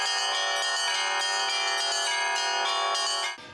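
Church bells ring continuously at a bell-ringing festival in Mogilev, several bells overlapping in a dense, loud, bright peal that cuts off near the end.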